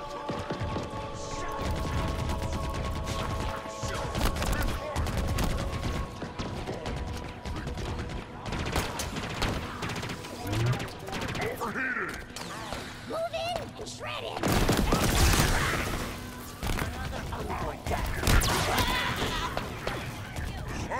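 Rapid turret gunfire in the Halo Infinite co-op campaign, dense bursts and booms layered with game effects and music, loud and continuous with a heavier stretch late in the clip.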